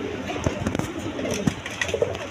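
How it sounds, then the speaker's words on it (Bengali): Pigeons at a farm coo in short repeated throaty calls, fairly close, with scattered clicks and rustling in between and a faint voice in the background. "দেখেন একদম কোয়ালিটিফুল কবুতর"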